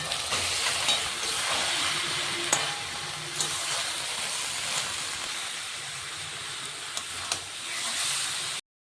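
Spiced cabbage tipped into hot oil and masala in a pan sizzles with a dense, steady hiss, broken by a few sharp pops and crackles, close and continuous before stopping abruptly.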